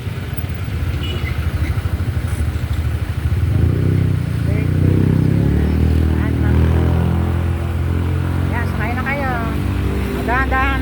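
A family's motor vehicle runs with a steady low engine rumble throughout, close and loud, while people talk over it and a voice rises at the end.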